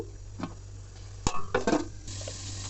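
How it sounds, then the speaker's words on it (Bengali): Ground spices for a fish curry frying in a pan, with a few scrapes and stirring knocks over a low steady sizzle, close and brief. "এখন মশলাটা কষিয়ে নিচ্ছি"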